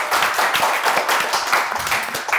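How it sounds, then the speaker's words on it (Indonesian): An audience claps for the guests of a late-night talk show, a short burst of steady, close applause from a small crowd with no talking over it. "Tepuk tangan dulu buat mereka."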